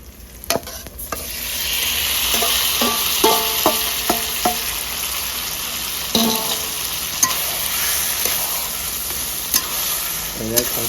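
Carrots, potatoes and peas go into a pan of fried masala and are stirred, with a close, steady sizzle broken by repeated spoon scrapes and clinks against the pan, and no talking.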